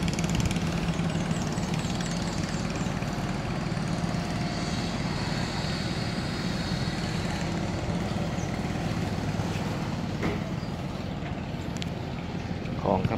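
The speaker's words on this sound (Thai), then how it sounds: "นู้นมีเรือกำลังออกครับเรือใหญ่" The engine of a large boat leaving on the Tha Sala canal in Nakhon Si Thammarat, Thailand: a continuous low, throbbing drone that stays loud and even throughout, with no clear talking.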